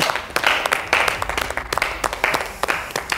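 A few people clap in a studio setting during a talk show, quick sharp claps in an irregular rhythm, close and fairly loud, with no speech over them.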